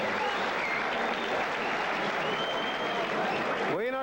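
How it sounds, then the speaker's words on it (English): A boxing crowd applauds during a four-round pro bout, with dense, sustained clapping and cheering throughout and a voice briefly rising over it near the end. "people are standing up applauding"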